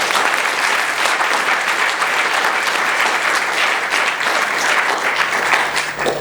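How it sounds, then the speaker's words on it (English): An audience at a talk breaks into loud, sustained applause, a dense wash of clapping that holds steady throughout with no voices over it. "so a big applause for Toronto."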